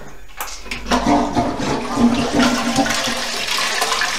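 A toilet flushing in a moldy restroom of an abandoned school in Dublin: a sudden, loud, close rush of water that churns and gurgles steadily throughout.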